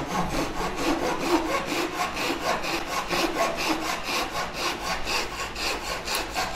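A hand saw cuts short pieces of wood for a trimaran sailboat build in a steady back-and-forth rhythm, each rasping stroke close and clear, with no talking.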